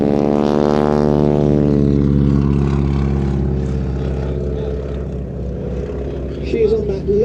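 Propeller aircraft carrying a wing walker on its wing flies past, a droning engine tone that sweeps downward in pitch and fades, with a voice talking over it.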